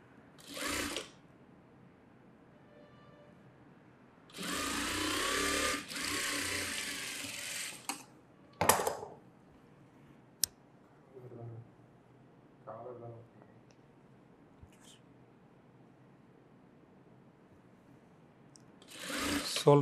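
A domestic sewing machine runs in short bursts while a blouse shoulder seam is joined, with one longer run of stitching and a few brief ones, separated by quiet pauses and small mechanical clicks.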